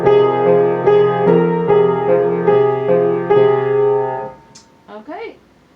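Piano chords played with sustain pedal, a steady series of about nine rich, ringing chord strikes that blend together, then fading into a brief faint glide and rustle at the end.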